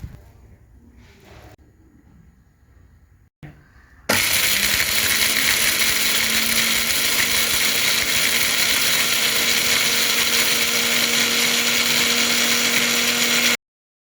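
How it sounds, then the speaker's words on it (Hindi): An electric grinder whirring loudly and steadily as dried turmeric is ground into powder at home, starting after a few seconds of quiet handling noise and running continuously for about ten seconds before cutting off abruptly. "इसके बाद जो है हम हल्दी को एक ग्राइंडर में डाल लेंगे और उसमें डाल के इसको हम ग्राइंड करेंगे।"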